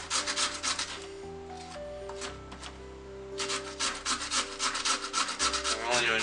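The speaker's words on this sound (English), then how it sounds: "But I'm grating the carrot." Carrots being grated by hand for kimchi, with rapid rhythmic rasping strokes that come in bursts, fairly close and clear, with background music tones running underneath.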